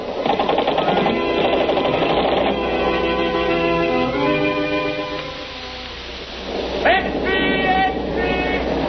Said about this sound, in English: He's got a machine gun.